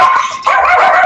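Small Yorkie dogs yap and bark loudly and close by in a quick, high-pitched burst, with a brief whimpering quality and no talk over them.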